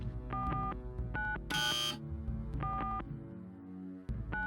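Keypad code being entered in the Deus Ex video game: short bursts of phone-like tone beeps in quick clusters, with a brief harsher buzz in between, loud and clear without talk.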